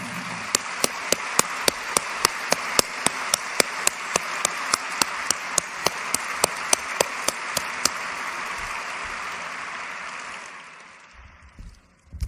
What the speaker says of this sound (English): I'd love to have you give them a real well-deserved round of applause.